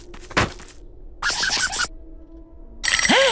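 Cartoon telephone ringing in a spooky animated comedy scene, short bursts of electronic ringing separated by gaps, ending in a bright warbling tone, with no talking.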